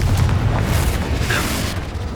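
A Confringo blasting spell goes off in Hogwarts Legacy, a loud, rumbling explosive boom that rolls on for about two seconds with a crackling burst in the middle.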